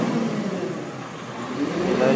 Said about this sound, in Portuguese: Ele tá acelerando?